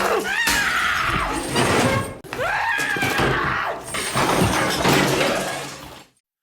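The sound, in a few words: ceramic doll being smashed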